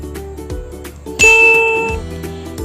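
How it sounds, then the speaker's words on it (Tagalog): A bell rings to signal that answering time is over in a school radio lesson, first a series of soft dings and then one loud, ringing strike that slowly fades, with no voices. "Once you hear the bell,"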